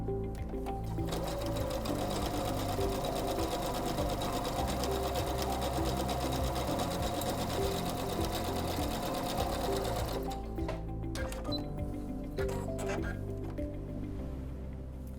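A Singer C430 sewing machine stitches a row of programmable stitches with a steady, close mechanical hum and needle rattle for about ten seconds before it stops abruptly.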